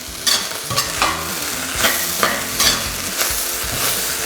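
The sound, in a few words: stirring green onions into egg fried rice in a pan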